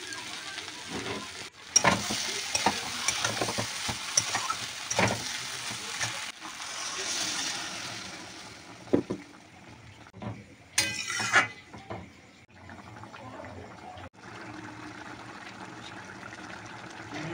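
Chana curry being sautéed in a pan, a sizzle with scattered clinks and scrapes of a utensil, then a sharp splash and hiss as water goes in, settling into a quieter simmer.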